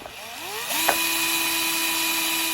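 A power drill winds up with a rising whine, then runs at a steady high-pitched hum, close and loud, drilling into a pantry cabinet door.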